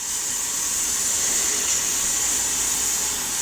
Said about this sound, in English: It starts to hiss loudly.